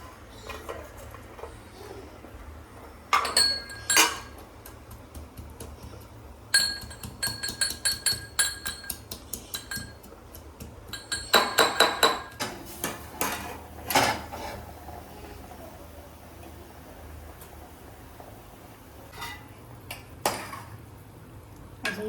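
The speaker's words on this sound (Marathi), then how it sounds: "तोपर्यंत आपण लसूण ठेचून घेऊ." Garlic crushed by pounding while cooking an Agri Koli-style fish fry: clusters of sharp, hard knocks come in rhythmic bursts with quieter gaps between them, alongside faint kitchen clinks.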